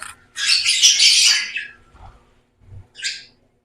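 Opaline lovebirds chirping up close, a loud burst of shrill, raspy chirps followed by a brief pause and then one more short, sharp call.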